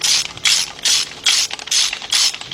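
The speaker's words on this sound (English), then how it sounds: "Grab your spark plug socket, 5/8 or 16mm, 6-inch 3/8 drive extension, and my 3/8 drive ratchet." A 3/8 drive ratchet with extension and spark plug socket tightening spark plugs on a Chevy Equinox or Buick Rendezvous engine, five quick rhythmic bursts of close, loud ratcheting clicks, alone without talk.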